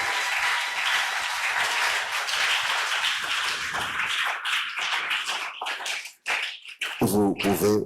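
A church congregation at a Sunday service applauds loudly and steadily, a dense wash of clapping that thins into scattered individual claps and taps, then a voice begins speaking near the end.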